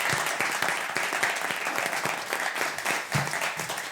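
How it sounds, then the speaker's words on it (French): A studio audience at a French comedy quiz show claps for the two contestants, a steady wash of close applause lasting a few seconds with no talk over it. "Voulez-vous applaudir Nadine et Laurent?"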